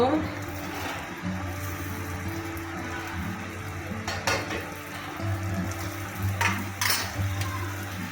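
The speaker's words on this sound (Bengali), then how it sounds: "এখন পটলটা দিয়ে দেব" Pointed gourd and prawns fry in a pan with a steady low sizzle, while a spoon stirs and scrapes with scattered clinks of metal on the pan. A voice talks over the cooking now and then.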